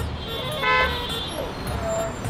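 Car horns toot amid a stuck traffic jam, with one sustained horn blast standing out over a steady rumble of idling vehicles and street noise, plus fainter honks further off.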